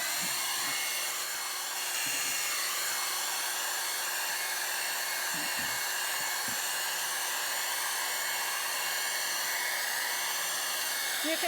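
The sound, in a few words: hair dryer drying a watercolor painting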